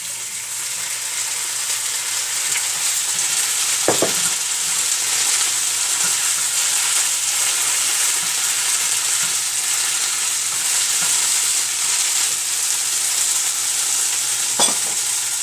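Potatoes fry in a pan in a vegan dish with tomatillo salsa, a loud even sizzle running throughout with a couple of distinct stirring scrapes, no voices.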